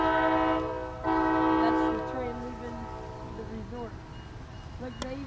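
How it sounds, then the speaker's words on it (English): A train horn blares loudly in a long sustained blast, then shorter fading honks follow as the train rumbles past, with voices talking underneath. "It's because of the train."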